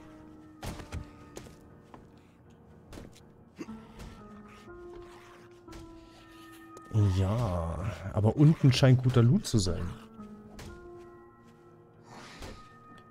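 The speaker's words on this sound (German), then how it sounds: "Es hört sich an, als ob der oben rumschlägt." A zombie banging upstairs in the video game 7 Days to Die: scattered dull thuds and knocks, some muffled, heard beneath and between someone speaking German.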